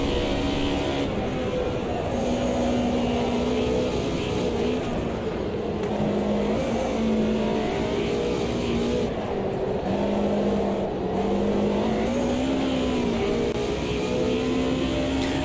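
Race car in Automobilista 2, from an England versus Germany sim shootout, with a steady loud engine drone rising and falling through gear changes and revs, continuous for the whole stretch with no talking.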